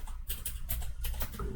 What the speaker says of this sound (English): We are going to type in Groovy,